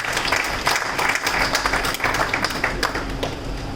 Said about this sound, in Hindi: इस बात के लिए जोरदार तालियां आपकी होनी चाहिए